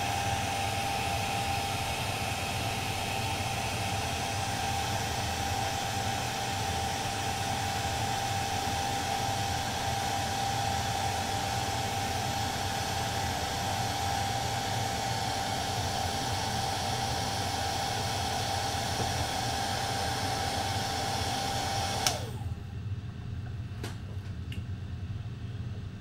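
A hairdryer blows hot air onto a painting with a steady, loud whooshing roar that runs for over twenty seconds, then cuts off abruptly, leaving near silence with a few faint clicks.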